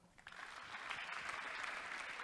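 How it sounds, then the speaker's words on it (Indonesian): An audience at a church seminar on tithing claps together, a dense, continuous patter of applause that builds at the start and holds steady, heard from a distance at low level. "Tepuk tangan."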